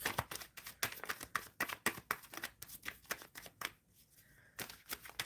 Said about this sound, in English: Shuffling for Brandy